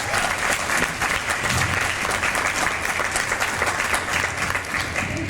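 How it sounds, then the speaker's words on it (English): Dense, steady applause from a comic convention panel audience, filling the room at a sustained level for several seconds with no voice on top. "Let's have a round of applause for them."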